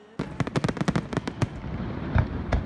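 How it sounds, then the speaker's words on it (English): A fireworks show over a bridge in Bremerton bursts in a rapid volley of sharp cracks and pops. A few heavier booms follow as the barrage thins out, loud and fairly close, with no talking. "a 15-minute fireworks show that included a few surprises"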